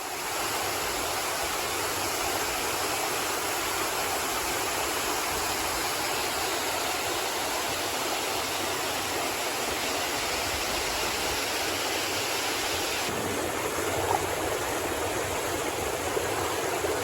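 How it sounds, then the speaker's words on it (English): Thoro Falls, a waterfall on the Appalachian Trail along the Thoro River, roars as a dense, continuous rush of falling water, loud and close, steady from start to finish with no talking. "And here is the waterfalls."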